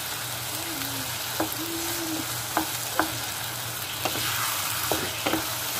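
Eggplant frying in a pan, a steady loud sizzle broken by several sharp clinks and scrapes of stirring, with no talking.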